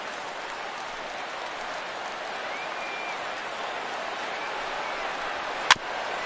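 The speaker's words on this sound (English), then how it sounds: "Crowd gets up for the 3-2." A steady wash of baseball stadium crowd noise from MLB The Show 17 holds at an even level throughout, with one brief sharp crack near the end.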